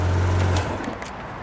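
Green 2016 Porsche 911 GT3 RS engine shutting down, a loud steady low idle rumble that cuts off abruptly, leaving faint background noise behind.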